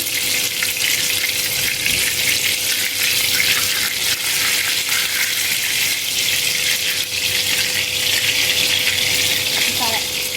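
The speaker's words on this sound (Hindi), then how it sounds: "इसी तरह सारे कबाब हम फ्राई कर लेंगे।" Minced-meat kebabs fry in a pan with a dense, even hiss that holds steady for the whole stretch and sounds a lot like running water. A faint constant hum sits beneath it, and no one speaks.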